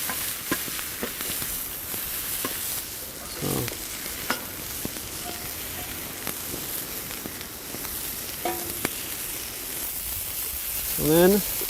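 Food sizzles and crackles steadily while toasting over a winter campfire, with occasional scrapes and clicks and a few short voiced sounds over the constant hiss.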